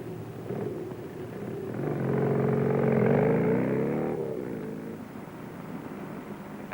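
A BSA motorcycle with a sidecar rides past, its engine note rising to a steady drone at its nearest and easing away again, with no talk.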